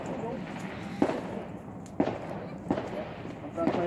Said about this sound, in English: Watch the rocket go up, George.